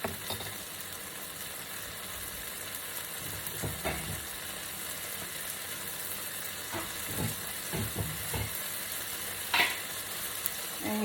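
An egg with feta cheese frying in a covered pan gives a continuous soft sizzle and hiss, broken by a few faint clicks and light knocks, close and steady with no talk.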